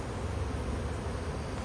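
Honey bees from a swarm buzz in a dense, steady drone close by, a continuous hum with no pauses and no voices over it.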